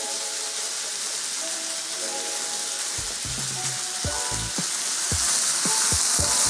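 Frozen vegetables sizzle in a hot pan as oyster sauce goes in, a steady hiss that swells into sharper crackling and spattering pops partway through, close and fairly loud with no voices.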